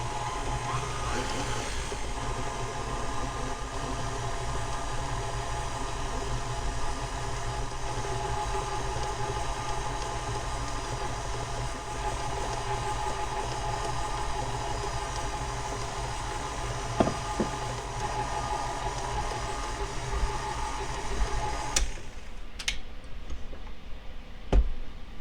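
An electric mixer beats shortbread dough on low speed while flour is slowly added, a soft steady whir with light ticking heard close by until it stops near the end.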